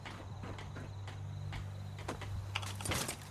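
Typewriter keys clack in a quick irregular series of sharp taps over a faint steady hum, from the video game Fallout 76.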